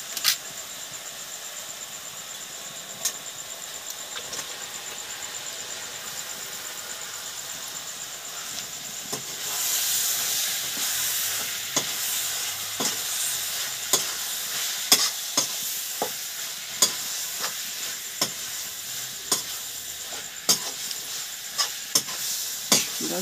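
Chicken pieces stirred through a simmering homemade masala gravy in a pan for desi chicken, giving a steady soft sizzle with repeated scraping clicks of the spoon, louder and busier midway through, without any voices.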